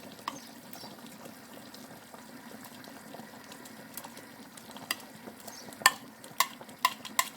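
Saka saka cassava leaves are stirred into a simmering chicken stew, with a soft bubbling boil underneath and a few sharp clinks of a spoon against the pot toward the end.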